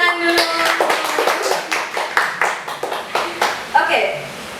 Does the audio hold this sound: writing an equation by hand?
no